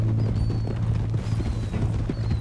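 Horse hooves galloping in Red Dead Redemption 2, a steady clopping rhythm running through the whole stretch beneath a loud low game soundtrack hum.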